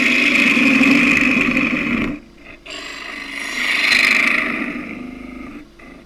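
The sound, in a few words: 3/8 spindle gouge cutting wood on a lathe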